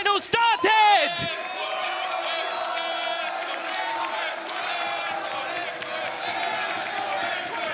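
An esports studio crowd at a Valorant grand final cheers and roars as a steady, dense wash after a few loud whoops at the start, while a caster talks over it.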